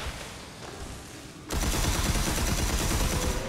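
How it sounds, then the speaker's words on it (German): Sustained automatic gunfire erupts midway as enemies are shot down in the video game Red Faction: Armageddon, a dense continuous burst of rapid shots that stays loud to the end after a quieter opening. "Wenn wir hier die Gegner abknallen."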